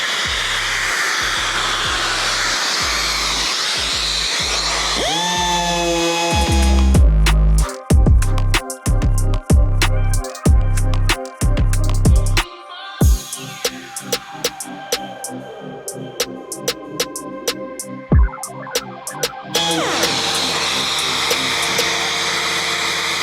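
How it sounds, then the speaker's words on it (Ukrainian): A vacuum dust extractor starts up and runs steadily, joined by loud, rough bursts of sanding with 150-grit paper on polyester body filler mixed with epoxy resin on a car bonnet. "Вмикаю пилосос."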